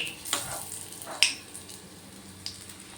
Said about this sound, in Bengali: বাকিগুলো ওই একই রকমভাবে ভেজে নেব